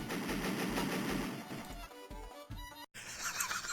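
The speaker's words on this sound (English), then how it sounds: "I gotta shoot this cannon and break it with unlimited bullets" A cannon in a Smurf arcade video game from Gaelco fires nonstop with unlimited bullets, a dense rapid rattle of electronic gunfire shots that runs the whole time with only a brief cut near the end.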